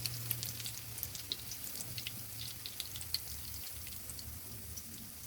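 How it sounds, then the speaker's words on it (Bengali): Chicken jali toast snacks deep-frying in oil over medium heat, giving a soft, steady crackle with scattered small pops throughout and no talking. "এভাবে আমি সবগুলো নাস্তা ভেজে নিব"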